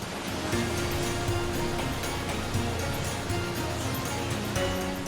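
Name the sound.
waterfall in China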